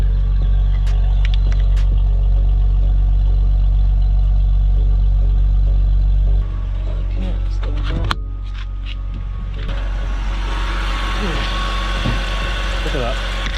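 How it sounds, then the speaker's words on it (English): A high-mileage BMW E46 325Ci Sport idles after a spark plug change, a loud, steady low engine drone that drops in level partway through, with clicks and handling noises near the microphone. "Car's running all good."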